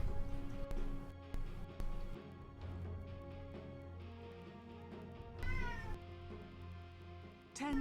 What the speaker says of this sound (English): Sorry for cat sounds.